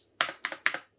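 Three crisp, close clacks of the Backspace key on a Razer Huntsman keyboard, evenly spaced in quick succession with no other sound.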